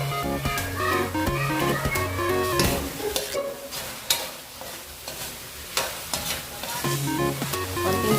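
Ground meat browning in a pan for Filipino-style baked macaroni, a steady close sizzle with repeated scraping stirs of the spatula throughout, and no voices.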